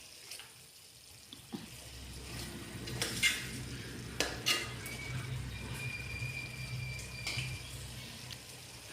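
Chicken being stirred with tomato paste in a pot, with soft scraping and clinks of a spoon against metal, several sharper knocks, and a gentle sizzle underneath, fairly quiet with no talking.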